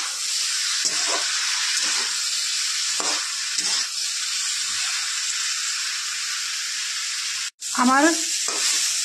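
Mixed vegetables with peas, ash gourd, aubergine and turmeric fry steadily in a kadai, the sizzle continuous and loud with repeated scraping stirs and a sharp clatter near the end; a voice speaks briefly.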